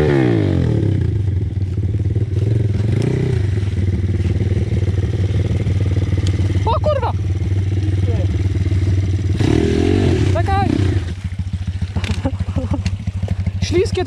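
A Pitgang 140XD dirt bike engine idles and revs nearby on slippery ground with a low steady rumble. Voices and scraping sounds rise over it, and the engine quiets near the end.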